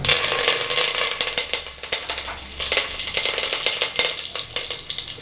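Whole spices fry in hot oil in a pan for a Tamil-style mutton curry, a loud continuous crackling sizzle with bursts of popping and occasional stirring scrapes throughout.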